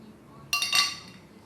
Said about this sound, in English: we're gonna get a couple of ice cubes in each glass